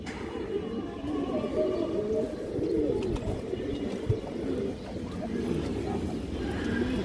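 Pigeons for sale at a bird market, cooing in low repeated bursts close by against a busy background of murmuring voices and general market noise.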